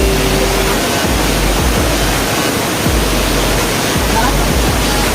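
Sikking waterfall in Pinrang, South Sulawesi, a steady, dense roar of falling water that fills the whole clip at constant loudness, with no talk.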